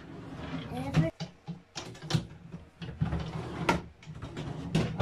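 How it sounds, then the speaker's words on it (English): Drawers of a Lokken three-drawer home office desk slid into place during assembly, a run of close wooden knocks and sliding thuds at an uneven pace, with people talking over them. "we're going to put our drawers in now"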